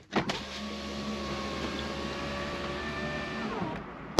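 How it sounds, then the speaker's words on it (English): A Mercedes-AMG A35 (W177) power window motor whirs steadily for about four seconds, a smooth electric hum ending with a soft click as the glass stops. "Quickly drop the windows."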